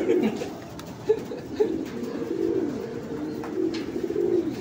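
Racing pigeons at a toss in Cabanatuan coo softly in repeated low, throaty phrases close by, with a few brief clicks and faint background noise between calls.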